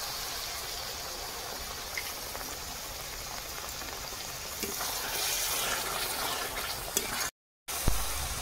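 Spice paste of ground chilli and turmeric with a splash of water frying in oil for a fish curry, a steady close sizzle and crackle with a brief dropout near the end.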